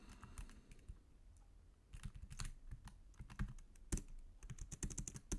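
Typing CSS margin and padding rules on a computer keyboard, with irregular bursts of crisp key clicks that grow denser and louder after the first couple of seconds, close to the mic and with no talking.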